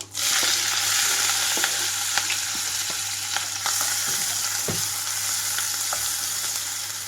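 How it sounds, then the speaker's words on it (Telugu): Chopped onions and green chillies dropped into a crackling tempering of chana dal, urad dal and fenugreek seeds in a pan for a spiny gourd curry, a loud continuous sizzle with scattered sharp pops. "మొత్తం కూడా చిటపటమంటూ వేగేటప్పుడే కట్ చేసి పెట్టుకున్న ఉల్లిపాయలు అలాగే పచ్చిమిరపకాయలను కూడా ఇందులోకి వేసేస్తున్నాను"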